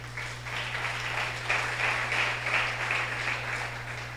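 A church congregation claps in praise to the Lord, moderately loud and steady throughout, with a low electrical hum underneath.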